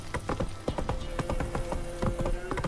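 Horse hooves clip-clopping in The Witcher 3 video game, a steady, rhythmic run of crisp hoof strikes at moderate volume with a faint, sustained tone underneath.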